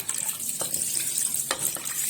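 Water runs steadily in a kitchen as something is washed and rinsed while cooking afang soup, a continuous close hiss broken by a few soft splashes and clinks.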